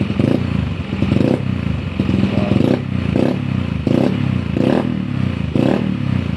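A motorcycle fitted with a race gauge panel runs close by, its engine note swelling in short, regular rev bursts about once a second over a steady rumble. No one speaks.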